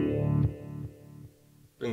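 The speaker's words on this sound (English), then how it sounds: "So if we just bring a little bit of delay in," An electric guitar through a Peavey Vypyr Tube 60 amp with a delay effect: a chord rings out, then fades in evenly spaced echoes, before a new note strikes at the end.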